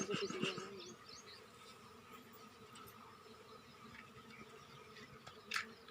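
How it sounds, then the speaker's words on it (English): Faint, steady buzzing of many honeybees in a hive box hums close by, with occasional louder passes as individual insects fly near. "Now in a box, when I will open, I will show you the 3 types of bees inside."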